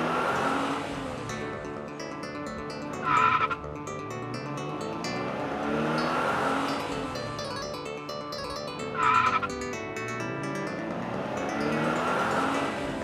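A small red toy car races fast along a road, with repeated whooshing engine and tire-squeal sounds swelling in two bursts over playful background music.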